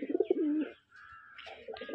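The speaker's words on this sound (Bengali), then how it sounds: "এখানে একটা পিস মাছরাঙ্গা বাজির, মানে এই নটটার মতন বাজির কবুতর আমার খুব কম দেখা আছে" A Machhranga highflyer pigeon coos in a few soft, throaty notes, loud and close at first, then fainter calls after a brief pause.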